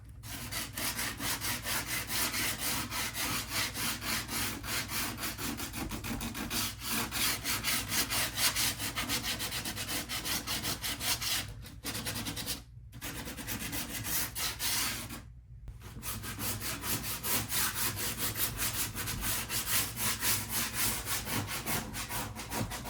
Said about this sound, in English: we're going to take some 60 grit sandpaper and a sanding block, and I'm just going to kind of lightly sand the edges